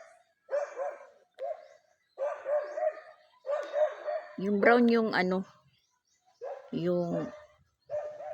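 A family's dog barks in short bursts close by in a rural spot at dusk, the yaps mixed in among people talking nearby.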